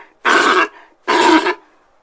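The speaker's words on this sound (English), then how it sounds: "Sea lion." A sea lion gives two loud, rough grunting bursts about a second apart, each lasting roughly half a second, heard alone.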